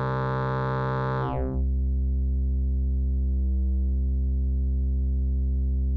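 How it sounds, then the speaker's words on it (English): A steady, low modular synthesizer bass sine wave hums continuously; a brighter buzzy layer drops away after about a second, leaving a smooth deep drone with a faint wobble later. "So here we have our bass sine wave"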